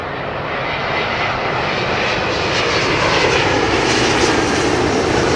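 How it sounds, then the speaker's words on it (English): A British Airways Boeing 777-200 landing at London Heathrow after a flight from New York, its loud, close jet roar swelling steadily as it passes, with no voices. "British Airways 777-200 coming in from New York"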